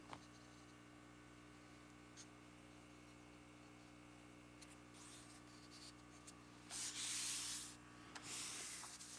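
Paper is glued down and rubbed flat by hand while making a tropical collage, giving faint soft rubbing and brushing strokes that grow into a brief, louder scrubbing burst near the end over a steady low electrical hum.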